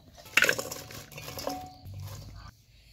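Thick-cut cabbage pieces tipped into a bowl in a home kitchen, making a brief clattering clink of dish and utensil near the start, then quieter shuffling rustles, close and fairly soft.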